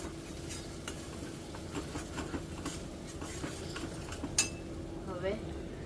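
Spice masala roasting in a pan as part of a hotel-style dal fry and paneer dish, with a steady low sizzle and occasional stirring scrapes and clinks of a utensil against the pan.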